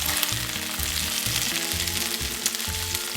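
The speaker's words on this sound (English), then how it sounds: "put some olive oil in. To that, add some butter and bring this to a nice sizzle." Butter and olive oil sizzling in a hot cast iron skillet, a dense continuous crackling hiss, close and steady, with a faint low hum beneath.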